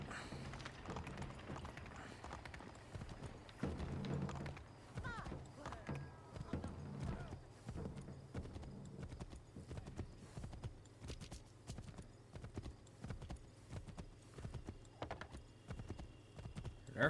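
Horse hooves clip-clop in a steady galloping rhythm in the Assassin's Creed 3 game, with occasional thumps and a brief neigh, all fairly quiet.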